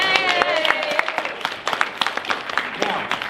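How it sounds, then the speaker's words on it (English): An audience in a church applauds an actor in a stage play about Esther, brisk crisp claps close by, irregular and fairly loud, while a voice talks briefly over the start. "Give him a clap."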